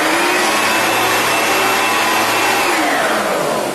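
An Oreck HEPA lightweight bagged upright vacuum cleaner runs at full power, a loud, steady motor roar with a whining tone that holds constant throughout, close up and with no voices.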